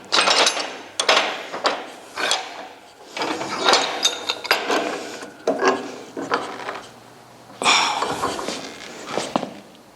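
Steel pipe fittings being tightened by hand during a pipe assembly practical exam, giving repeated ratcheting, grinding metal-on-metal bursts in uneven short runs, fairly close, with brief pauses between turns.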